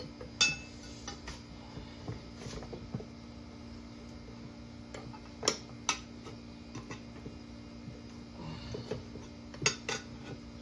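Metal tire spoons clink and tick against a go kart wheel as a tire is pried on, with faint scattered metallic taps over a low steady hum.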